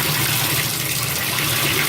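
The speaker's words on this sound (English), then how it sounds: "So let me go ahead and turn the water on" A bathtub tap runs at full flow while the bath fills for a bubble bar, giving a loud, steady, close gush of water with no voices.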